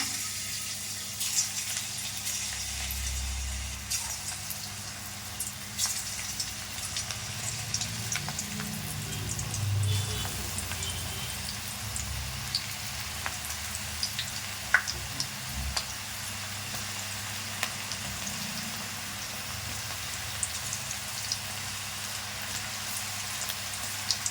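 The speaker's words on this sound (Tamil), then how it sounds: "அதில் எண்ணெய் ஊற்றி நல்லா சூடு பண்ணி வச்சுருக்கேன். இப்போது இந்த ராகி மாவை கொஞ்சம் கொஞ்சமாக இப்படி உதுத்து விட்டுக்கலாம்." Ragi pakoda batter crumbled into hot oil in a kadai sizzles continuously, a bright bubbling hiss dotted with small crackles and occasional louder pops, close and steady with no talking.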